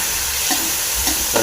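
Drumstick leaves (murungai keerai) stir-frying in a pan, a dense continuous sizzle with a few soft stirring strokes, loud and close.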